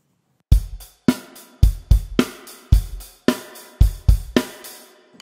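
Kit drums play a variation of a rock beat with an extra bass drum on the three, heavy kick thumps and sharp snare cracks in a tight repeating pattern, close and alone without talking.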